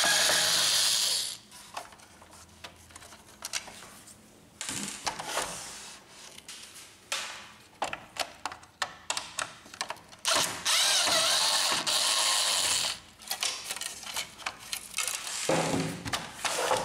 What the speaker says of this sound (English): Remove the two screws.